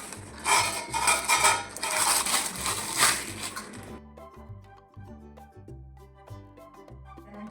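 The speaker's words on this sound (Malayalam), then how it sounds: "ചെറിയ സ്പൂണുകളെല്ലാം ഇട്ട് വെക്കാം" Small spoons are dropped into a kitchen cutlery organizer, making a rapid run of bright metallic clinks and rattles close by, followed by softer scattered taps as they settle.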